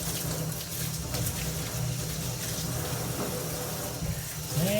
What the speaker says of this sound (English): So we'll wash the spuds first.